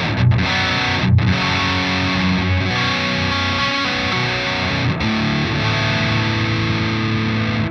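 Heavily distorted electric guitar played through a modeled Fireball amp with a boost engaged, sustained chords and chugging notes ringing continuously at steady volume with brief gaps between phrases.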